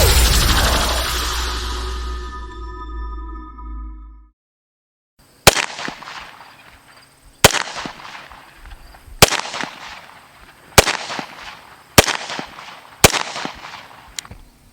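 A gun test-fired at a range with a Vortex AMG UH1 Gen II holographic sight mounted, several loud sharp shots spaced a couple of seconds apart after a long fading ring and a brief silence.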